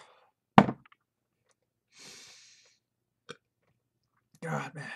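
A short, loud burp erupts near the start, followed by faint breathing and small mouth sounds, then a brief burst of muffled noise at the end.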